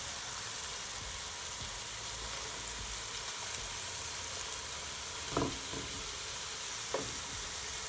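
Rice frying in a pan for Jamaican coconut callaloo saltfish fried rice, a steady soft sizzle throughout with a couple of brief stirring scrapes near the end.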